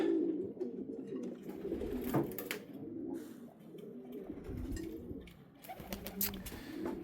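Several pigeons coo in low, throaty, overlapping rolls throughout, fairly close, with occasional rustling and a few faint chirps in the background.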